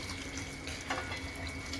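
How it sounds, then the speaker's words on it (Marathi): Hot water poured into a cooking masala in a pan, a steady sizzling, bubbling hiss heard close and fairly loud throughout, with no talking. "आता मी हे पाणी गरम करून घेतलेलं आहे, पाणी टाकून देतोय मसाल्यामध्ये."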